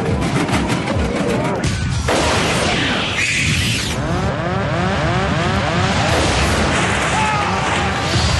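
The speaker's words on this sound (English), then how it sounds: "With a huge explosion, the captain's windscreen blows out into the sky." Huge explosion as the captain's windscreen of an airliner blows out at about 17,300 feet, a loud sustained blast and roaring rush of wind with crashing debris, filling the whole stretch.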